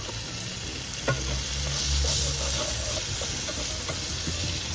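Grass-fed beef patties sizzle on a hot surface as they are flipped, a steady loud hiss with a sharp spatula clack and a few lighter scrapes, no speech.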